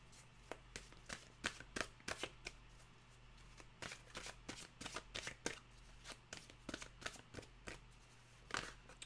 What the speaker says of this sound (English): let's get a mantra card out.